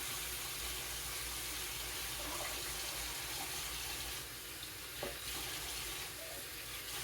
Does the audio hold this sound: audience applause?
no